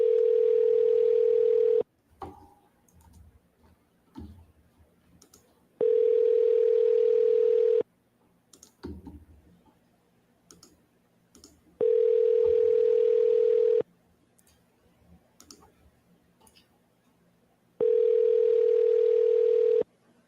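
Outgoing telephone call ringback tone, a steady two-second tone repeating four times with about four-second quiet gaps between, filled with faint room noise and small clicks.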